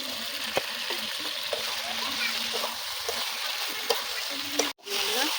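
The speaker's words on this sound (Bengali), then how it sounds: "ভেজে রাখা আলুগুলো দিয়ে দেবো।" Fried potatoes go into a sizzling pan for a bottle gourd and prawn curry, giving a steady, moderate frying hiss with soft splatters and an occasional clink of a spoon against the pan.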